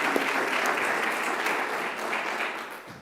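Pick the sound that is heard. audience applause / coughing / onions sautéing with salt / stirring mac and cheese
audience applause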